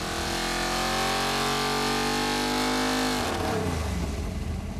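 A 781 hp single-Dominator V8 on a dyno pull, roaring loud and steady as its pitch climbs, then dropping off abruptly as the throttle closes near the end.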